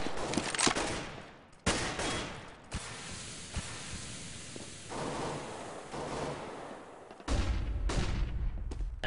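Counter-Strike gunfire from a competitive match, with bursts of rapid shots spraying through a wall, separated by short lulls and ending in another loud burst, with no talk.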